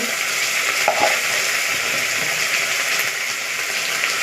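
Dried fish with tomato and spices frying in a pan, a loud continuous sizzle with scraping stir strokes and occasional clinks, close and steady.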